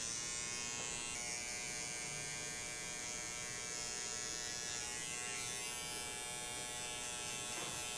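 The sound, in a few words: T-outliner hair trimmer buzzing during burst fade haircut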